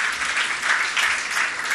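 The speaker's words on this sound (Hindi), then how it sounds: "जोरदार ताली से उनका स्वागत कर दें पूरे परिवार के साथ में" An audience claps warmly to welcome a trustee and his family at a religious gathering, a brief, dense burst of applause from many hands with no voices over it.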